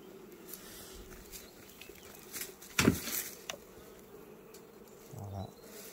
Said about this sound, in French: quand on voit qu'il y a vraiment beaucoup d'abeilles, généralement on vérifie qu'il n'y ait pas du couvain dans la hausse